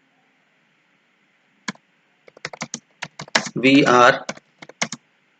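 Computer keyboard keys clicking in short bursts of typing while entering Python code, crisp and close, with a brief stretch of a man's speech in Hindi in the middle.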